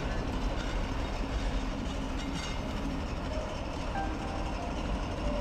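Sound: train arriving at station

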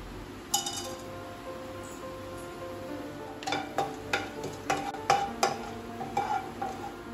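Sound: whole spices frying in hot oil

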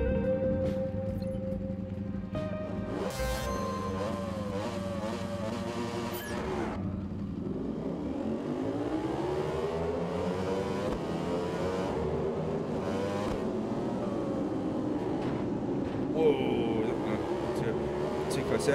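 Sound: Ducati motorcycle engine racing at Silverstone, RiMS Racing video game

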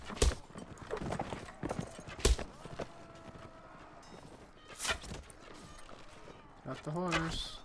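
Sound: horse hooves clip-clopping in Mount & Blade Warband, from a video game

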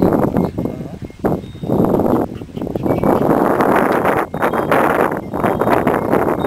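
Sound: wind blowing outdoors

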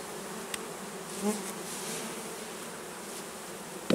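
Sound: honey bees buzzing at an open beehive

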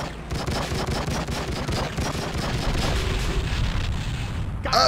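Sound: explosion in video game True Crime: Streets of LA

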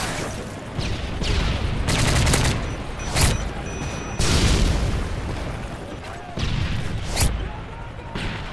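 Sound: airstrike explosions and gunfire in video game Call of Duty MW3

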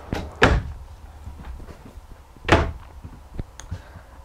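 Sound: RV drawers on ball bearing glides closing

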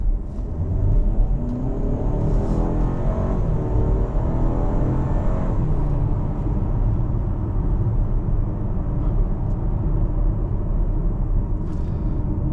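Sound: Buick Envision 2-liter engine accelerating

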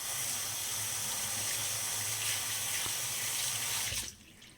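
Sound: rinsing face cleansing gel off with water

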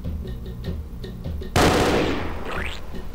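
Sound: gunfire from custom weapon in Spongebob Doom II mod video game

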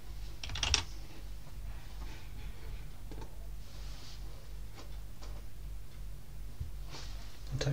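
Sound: typing on a computer keyboard in a terminal

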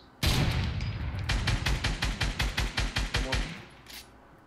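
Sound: gunfire in Fortnite, a video game

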